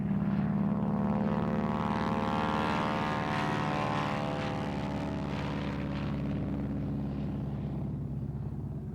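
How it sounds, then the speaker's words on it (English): A North American SNJ-4 propeller plane flying at an air race, its loud droning engine sweeping down in pitch as it passes close by, then fading slowly. "Fast Eddie Van Fossen from Bakersfield, was back at it in his North American SNJ4 that he calls Miss TNT"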